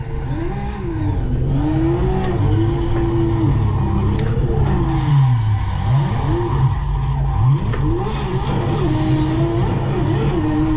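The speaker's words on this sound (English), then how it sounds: "I can pretty much just hold the e-brake and just draft it, and I'll be drifting." A 1000hp Holden Commodore with a Ferrari engine drifts on the e-brake, its engine droning loud and close as tires squeal in long rising and falling sweeps over about ten seconds.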